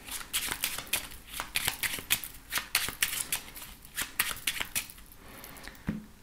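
A 32-card deck of playing cards being shuffled at a table for a reading, with rapid crisp riffles and flutters in uneven bursts, close and fairly quiet, without any talking.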